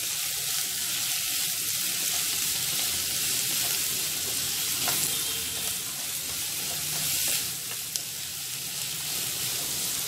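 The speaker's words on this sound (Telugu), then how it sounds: "పెట్టుకున్న ఆనియన్ ముక్కలు ఇవి కొద్దిసేపు మగ్గాల" Onion pieces fry in a pan for a drumstick and coconut milk masala curry, giving a continuous even sizzle with faint scraping stirs and one small clink near the end.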